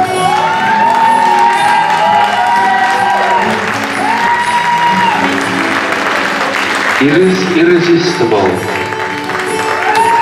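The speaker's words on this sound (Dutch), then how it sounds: "Geef ze daarom nog eens een daverend applaus." An audience applauds and cheers after a stage performance by a group of artists, with steady clapping and whoops blending with music and voices throughout.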